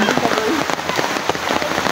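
Steady, fairly loud rain falls on a surface throughout, a dense patter of drops with no break, and faint voices sit low beneath it.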